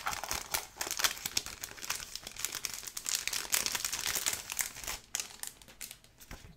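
Pink classic-sized planner filler paper being unfolded and handled, producing close, continuous crinkling and rustling with sharper crackles throughout, no voices.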